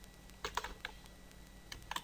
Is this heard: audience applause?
no